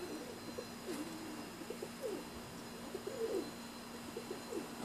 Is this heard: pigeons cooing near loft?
yes